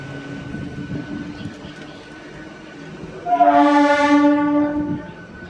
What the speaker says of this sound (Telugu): జంగాలపల్లి నుంచి మన ట్రైన్ బయలుదేరింది